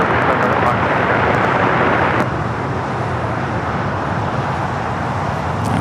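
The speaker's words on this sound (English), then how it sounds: "Hawaiian flight 933, the flight to Kahului at A330 at 200 up next for takeoff" A Hawaiian Airlines Airbus A330 taking off at LAX, its steady jet engine roar loud and broadband throughout, with faint traffic or ambient noise beneath and a slight drop in level partway through.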